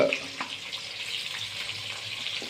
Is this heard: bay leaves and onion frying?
yes